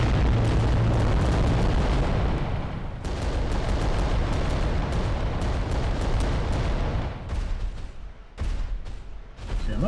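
Volcano cannon blasts and heavy explosions in Adeptus Titanicus: Dominus, with a loud sustained roar of booms that fades near the end into several separate sharp impacts.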